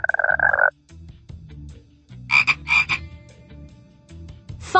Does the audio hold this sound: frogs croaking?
yes